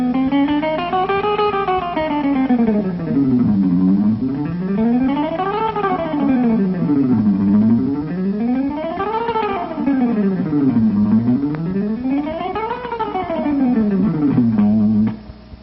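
Fast alternate-picked guitar runs in a speed-picking exercise climb and fall in smooth, continuous waves, about four up-and-down cycles, played through an effects unit with a slightly distorted, steady tone and no voices.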